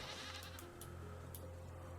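Goats bleat in the video game Raft, short nasal calls rising over a continuous low background drone, faint and alone without speech.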